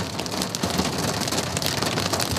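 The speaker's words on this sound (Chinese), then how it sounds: "降下冰雹跟强阵风" Steady, dense hail and rain clatter on surfaces with wind noise during a February storm in Ohio, a continuous close wash of impacts with no voices.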